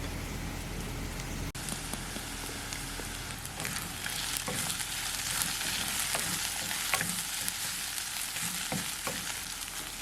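Red chilli and asafoetida sizzle in hot oil while sevai upma is being made, a steady crackling fry with scattered pops that runs the whole time at close range.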